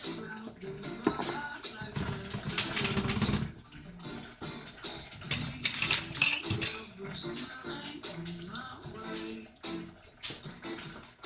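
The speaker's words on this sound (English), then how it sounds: "Let's get a whisk for this guy" A metal whisk beating a cream sauce for duck breast in a pan, with rapid clinking and scraping against the cookware, irregular and busy, over faint kitchen background.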